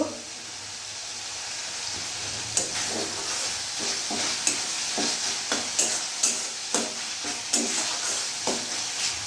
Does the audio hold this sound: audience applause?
no